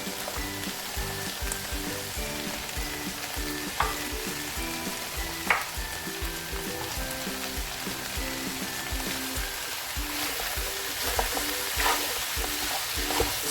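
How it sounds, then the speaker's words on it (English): Spinach stirred into beef stew in a pot: a continuous moderate sizzle with a few sharper scrapes and knocks of the spoon, under a faint steady hum. "Now I'm just gonna put the spinach in."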